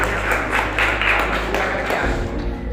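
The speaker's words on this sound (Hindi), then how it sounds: "तो मैं एक बार जोरदार ताली को स्वागत करके बुलाना चाहता हूँ कल्पना कुमारी" An audience at a panchayat gathering in Jaridih Bazar claps to welcome Kalpana Kumari, with loud, close, rhythmic clapping over a low hum that thins out near the end.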